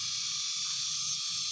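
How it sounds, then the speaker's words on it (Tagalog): Cicadas at a campsite, a dense, steady high-pitched buzzing drone throughout, with a low pulsing rhythm underneath, continuous and fairly faint. "Guys, naririnig yung mga kuliglig. Yung daming kuliglig na."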